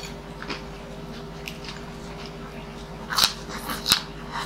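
Two crisp crunches from biting into deep-fried crispy pork leg (crispy pata) served with mung bean stew and rice, close and fairly quiet against a soft steady background hum.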